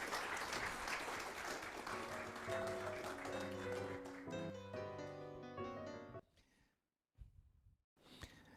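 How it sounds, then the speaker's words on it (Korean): A forum audience claps to welcome a club president, moderate applause that thins as a sustained music cue rises, then ends in near silence and a brief rustle. "박수로 회장님을 요청하겠습니다."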